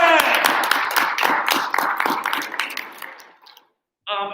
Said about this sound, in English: claps for Darian